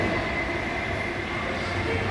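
A Kolkata Metro train runs at Kalighat underground station, a steady loud rumble of wheels and carriages with a faint high squeal, continuous and close throughout.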